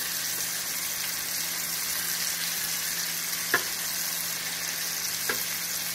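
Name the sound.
pork chops searing in a skillet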